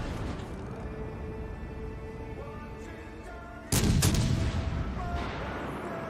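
Naval gunfire in the video game World of Warships, a low rumbling battle bed with tonal game sounds before a sudden loud blast of ship guns lands midway and keeps roaring, no speech.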